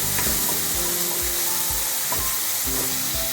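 Chopped tomatoes stir-frying in a pan while a Sindhi dal is prepared, with a steady close sizzle and regular scraping stirs roughly every half second, alone without talk.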